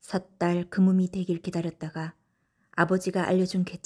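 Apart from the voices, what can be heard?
No everyday noise stands out behind the speech.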